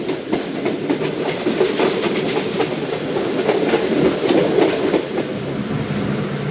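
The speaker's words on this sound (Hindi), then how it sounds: "7:20 पर 200 ट्रेन का अराइवल हुआ है उकाड़ा रेलवे स्टेशन।" A passenger train rolls into Okara railway station with a continuous loud rumble and rhythmic clickety-clack of wheels over rail joints, close by and steady throughout.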